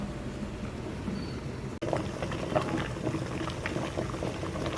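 Water bubbles and hisses at a steady boil in a pot where sweet corn steams over a high flame. A single brief clunk breaks in midway, then the simmering carries on close and even.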